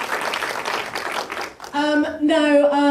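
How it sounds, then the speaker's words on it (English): An audience at a film screening in Austin breaks into steady applause that briefly dips, then a loud sustained whoop or cheer rises over the tail of the clapping. "Applause all around."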